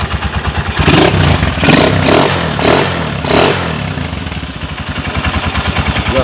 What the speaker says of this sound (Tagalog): Pinong pino ang andar ng 10 x 155 ni pare